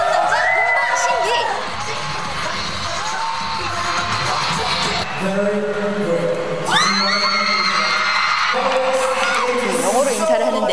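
Fans cheering and screaming at a concert in Malaysia, a loud continuous crowd roar with high-pitched shrieks that swell around the middle, mixed with stage music and talk.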